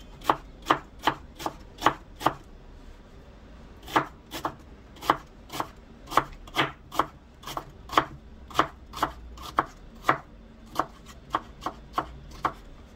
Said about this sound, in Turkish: Bir adet kuru soğanı ince ince yarım ay şeklinde doğrayalım.